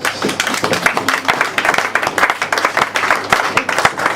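A church congregation breaks into loud, lively applause, many hands clapping in a dense, uneven patter that holds steady for several seconds with a few voices mixed in.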